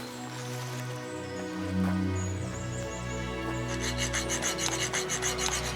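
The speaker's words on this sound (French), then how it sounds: "Tu vas jamais y arriver avec une scie aussi minable, Nathan." A small saw rasping back and forth against a bike lock in a steady, scraping rhythm, close and continuous over a low background hum, with no talking.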